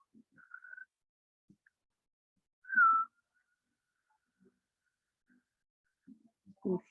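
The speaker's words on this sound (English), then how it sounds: "If you know how to whistle and you want to remember how to whistle, you can try it here." A person whistles during a meditation practice: two short, soft whistled tones, one near the start and a clearer, slightly longer one a few seconds later, in an otherwise quiet room with faint breathy sounds.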